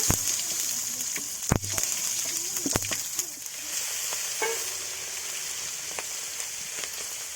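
Tomatoes fry in hot oil in a wok, a steady close sizzle with a few sharp clatters of stirring and turning early on, then settling into an even hiss.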